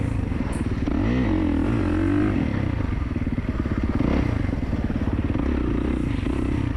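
A 2024 Kawasaki KX450 dirt bike engine revving loud and close, its pitch rising and falling as the throttle works, with clattering and scraping underneath.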